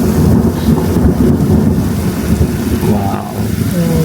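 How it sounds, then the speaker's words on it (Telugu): Thunder during the first heavy rainstorm of the season, a loud, deep, continuous rumble mixed with the hiss of rain, sustained throughout with no voices. "పిడుగులు కాదా, ఈ ఉరుములు"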